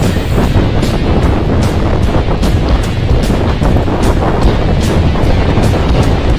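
Loud, rough headwind roars across the microphone of a moving bicycle without letup, buffeting in gusts.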